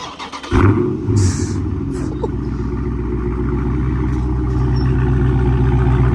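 A Dodge Challenger Scat Pack's engine catches with a sudden loud low rumble after a brief pause, then holds a steady, close idle-to-light throttle drone as the car backs out.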